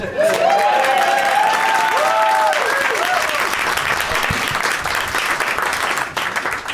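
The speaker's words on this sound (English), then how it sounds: "Applaud." A large comedy podcast audience applauds loudly and continuously, a dense wash of clapping with a few whoops and shouts rising over it early on.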